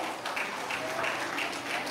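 An audience at a village commemorative gathering applauds, a short burst of dense, steady clapping that fills the whole moment.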